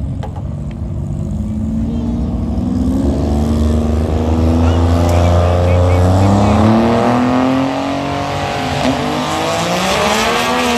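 A race car at a TX2K24 drag racing event roars past loud and close, its engine note climbing and then falling away, with people talking nearby.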